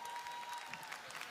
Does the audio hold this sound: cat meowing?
no